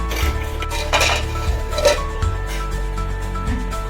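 A metal lid set on and lifted off a pot of fish curry, with a few close clanks and clinks over a low steady hum.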